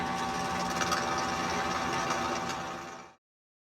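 A steady, continuous mechanical whine of a power drill drilling metal in blacksmithing work runs for about three seconds, then stops abruptly into silence.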